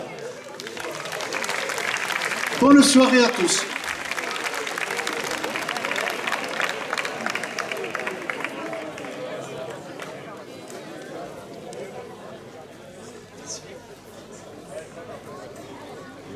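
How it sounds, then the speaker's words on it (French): An audience at the Festi'Vallons festival applauds the singer Sorenza, with steady crowd clapping that thins and fades after several seconds while a voice speaks over it. "Je vous demande de l'applaudir."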